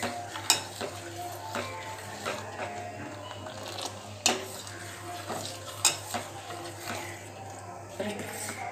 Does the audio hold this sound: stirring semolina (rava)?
yes